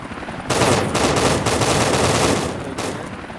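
An AI turret in an Unreal Engine 5 helicopter game fires a loud, fast continuous burst at a helicopter, pauses briefly, then opens up again.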